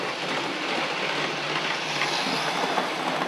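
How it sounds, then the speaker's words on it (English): A Midland Pullman model train runs steadily on its track, giving a continuous close whirring and rumbling with faint clicking, with no speech. "Okay, so the train's been running for a couple of minutes."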